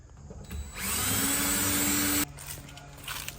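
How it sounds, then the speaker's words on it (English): A power drill whines steadily at high speed for over a second, starting and stopping abruptly, with lower mechanical rumbling around it, as it drills a pilot hole through a van wall for a 30 amp shore power inlet. "So we'll drill a hole from the inside out"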